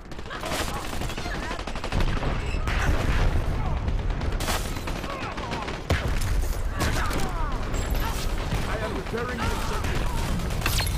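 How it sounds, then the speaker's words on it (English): Grenades lobbed into a corner during a competitive Dirty Bomb match: dense, continuous combat with repeated booms and gunfire layered together, loud and busy throughout, with voices talking over it. "I'm gonna start lobbing nades into that corner."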